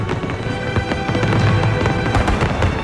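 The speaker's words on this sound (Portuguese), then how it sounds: "Queima de fogos de Copacabana está prevista para durar entre 16 e 20 minutos" New Year's Eve fireworks over Copacabana beach in Rio de Janeiro pop and crackle in dense, rapid bursts, loud and continuous with a busy, rattling texture and no clear talk.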